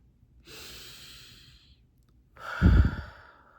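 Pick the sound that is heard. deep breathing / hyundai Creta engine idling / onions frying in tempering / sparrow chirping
deep breathing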